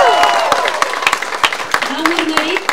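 Crowd clapping to welcome the returning Moldovan Olympic team home, scattered sharp claps beneath a loud voice speaking over them.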